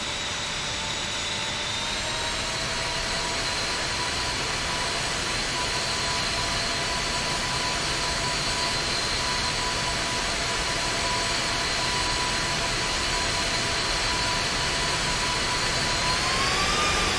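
A-10C jet engines whine steadily while taxiing in the DCS flight simulator over the Persian Gulf, a continuous loud turbine drone with sustained high tones that rise slightly near the end.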